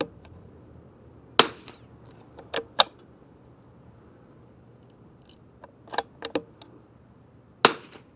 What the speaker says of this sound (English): last 5-round group, folks, out of the Kimber 82G